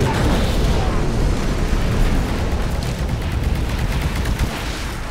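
Rapid gunfire from shooting in the video game Titanfall, a dense, loud, continuous barrage of shots and booming blasts lasting the whole stretch, with game voices faintly mixed in.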